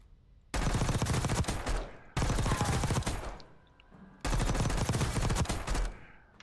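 Three long bursts of rapid automatic gunfire on a video game firing range, each lasting over a second with short gaps of quiet between, loud and close.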